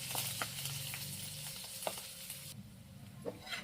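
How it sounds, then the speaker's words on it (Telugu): Chopped onions and curry leaves hit hot oil with tempering seeds for an ivy gourd fry, making a soft, continuous sizzle with a few light stirring taps, fairly faint and without speech. "కట్ చేసుకున్న ఆనియన్స్ కూడా వేసుకోండి."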